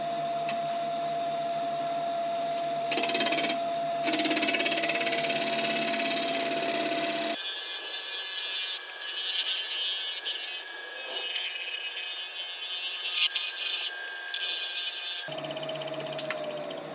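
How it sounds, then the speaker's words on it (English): A negative rake scraper takes very light finishing cuts across spalted wood on a lathe, a continuous close scraping drone over the motor's hum that shifts tone midway and returns near the end, with no voices. "now we're just going to do very light cuts over the surface"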